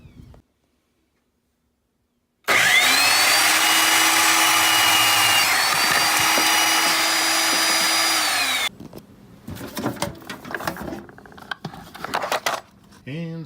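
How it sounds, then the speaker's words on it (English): A power tool threads the end of a steel cross brace rod for an outdoor fireplace built from a washing machine: a loud, steady whining drone lasting about six seconds, then clanks and handling noise. "And still threading that rod."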